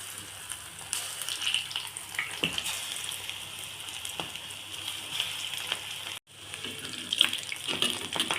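Minnapappu bajji, small lentil fritters, sizzle and bubble steadily in hot oil, a continuous close crackling hiss with a brief break near the end and no voices.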